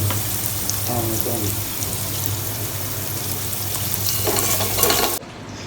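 Onion masala fries in oil in a pan in a bachelor room's small kitchen, giving a steady close sizzle with stirring scrapes, some splashy water-like noise, and a faint voice or two under it.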